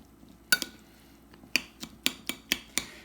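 A spoon stirs chopped mango salsa in a bowl, giving a handful of sharp clinks and scrapes against the dish, close and distinct, spaced irregularly over a quiet background with no talking.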